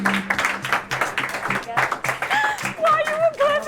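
An office team claps to celebrate striking a big deal, a continuous spread of applause from a group with voices, cheers and calls mixed over it, fairly loud and close.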